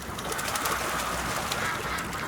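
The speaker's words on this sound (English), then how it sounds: "Ducks." Ducks in the video game A Plague Tale: Innocence, with a steady wash of bird calls and scattered short squawks over continuous ambient game background noise, no one talking.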